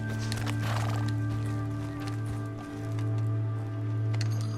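A horse in Red Dead Redemption 2 whinnies loudly over a steady tonal game ambience, followed by a few soft hoof clops, with no talking.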